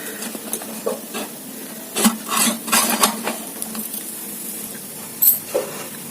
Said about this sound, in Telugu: చూడండి ఫ్రెండ్స్, వేగిపోతున్నాయి కదా